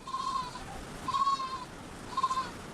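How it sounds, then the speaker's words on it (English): Three drawn-out goat bleats at a steady interval, fairly faint against a breezy outdoor background. "Goats."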